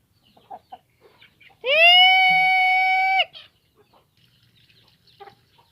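A single loud, drawn-out chicken call with a rising start and strong harmonics lasts about a second and a half, surrounded by faint scattered clucks and rustling.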